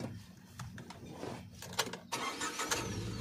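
Tata Nexon CNG car engine cranks and catches, then settles into a quiet idle heard close up from inside the cabin, with a few clicks and handling noises around the start.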